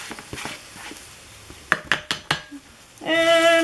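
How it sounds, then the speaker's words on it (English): Onions tipped into a crock pot with melted butter make a quick run of close clinks and knocks against the pot, followed by a louder rustling clatter at the end. "Throw all your onions in."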